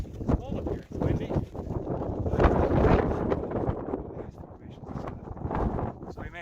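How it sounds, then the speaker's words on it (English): Strong wind buffets the microphone on the snowy Panther Peak summit in the Adirondack High Peaks, a loud, uneven rushing roar with gusts swelling and fading throughout. "And, it's cold up here. It's windy."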